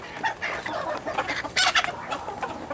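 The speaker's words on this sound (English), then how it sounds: "Okay, right there's another rooster." Another rooster clucks in a string of short, uneven bursts with one louder cluster near the middle, fairly close and free of talking.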